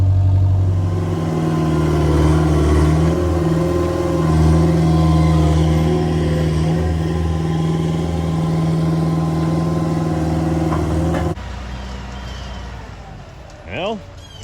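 A concrete truck arriving at a shop construction site, its diesel engine rumbling loud and close for most of the clip, then cutting off abruptly into quieter ambience with a brief whistle-like sound near the end.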